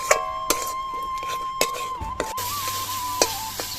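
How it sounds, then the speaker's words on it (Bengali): Spices being sautéed in a pan for egg rice: a steady soft sizzle with repeated scraping stirs of a spatula and a few sharp clinks against the pan, fairly close and with no talking. "এবার মশলাগুলোকে ভালো করে কষিয়ে নিচ্ছি।"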